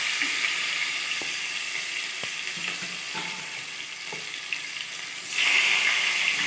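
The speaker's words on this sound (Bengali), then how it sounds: "এখন যেহেতু তেলটা গরম আছে আমি এখানে ছেড়ে দেবো পেঁয়াজ।" Onions dropped into hot oil for a chicken curry, a steady close sizzle with a few light taps of a utensil, then a sudden louder burst of crackling frying near the end, no talk.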